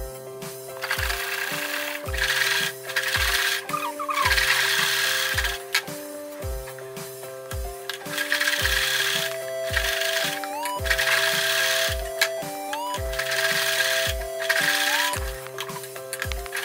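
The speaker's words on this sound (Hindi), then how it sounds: "तो पहले हम गले की सिलाई लगा लेंगे, उसके बाद आर्मोल की सिलाई लगा के छोटे छोटे कट्स लगा के इसको हम सीधे की तरफ डायरेक्ट पलट लेंगे।" A sewing machine stitches the neckline of a dress made from an old saree, with a steady, close mechanical clatter that repeats in even cycles and no talking over it.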